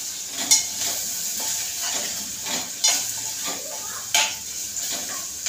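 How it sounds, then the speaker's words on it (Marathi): Ginger garlic paste and onions frying in hot oil, with a steady close hiss broken by a few louder bursts of sizzle and utensil scrapes against the pot. "कांदा लाल होताना आता मी आलं लसूण पेस्ट टाकते तेलामध्येच."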